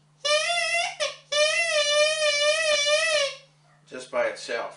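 A bagpipe reed of elder wood with a tongue cut in it, blown by itself, gives a loud buzzing, slightly wavering reedy tone in two sustained blasts, followed by brief talk.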